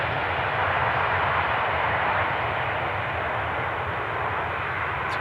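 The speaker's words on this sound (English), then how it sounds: "To clear the runway for the A330 from Turkish. We are in fact seeing it vacate the runway right now." Turkish Airlines A330 airliner vacating the runway at Amsterdam Schiphol, a steady, loud jet engine roar holding constant throughout, with no talking.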